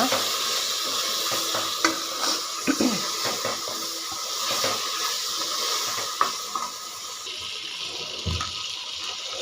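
Chicken with chili powder for biryani is stirred and mixed, giving close wet scraping and squelching with sizzling underneath and occasional louder knocks, no talking.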